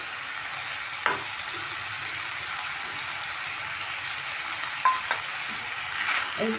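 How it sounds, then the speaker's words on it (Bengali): Cumin powder and ginger-chilli paste frying in a pan while being stirred, a low steady sizzle with a few spoon scrapes and knocks, close but fairly quiet. "এইগুলো দিয়েও আমি ভালো করে নেড়ে নিচ্ছি"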